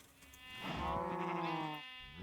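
A single drawn-out, nasal lowing call from a cow in the video game Minecraft modpack FTB Ultimate Reloaded, fairly close, rising and holding for about a second before trailing off over quiet background.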